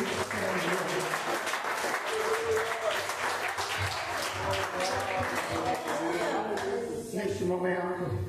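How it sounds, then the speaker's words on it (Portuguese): Church congregation applauding during a worship service, a dense, steady wash of clapping that holds evenly throughout, with voices and music tones mixed beneath. "E a igreja aplaude e glorifica ao nome do Senhor."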